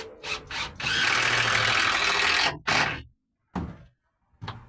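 A power drill drives screws into the bottom of a van panel while shelving is fitted: short whirring bursts, then a long sustained run, followed by a few quick trigger pulls with silent gaps.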